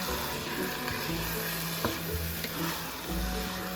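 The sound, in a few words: stirring asparagus stems into risotto in pan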